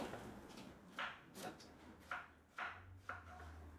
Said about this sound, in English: make a little slice down the side of these as well. Cut these pieces into two.